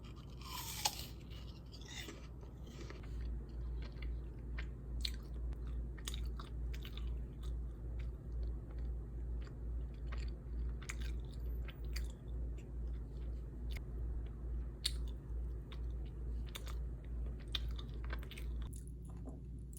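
Soy milk soup with bread being eaten, soft close-up chewing and biting with faint crunches repeating in a steady rhythm over a low continuous hum, no talking.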